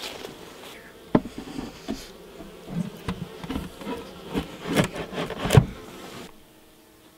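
Honeybees buzz around an opened hive in an apiary, a steady drone with individual insects whining past close to the listener and fading away, moderately loud, with a few soft knocks from the hive.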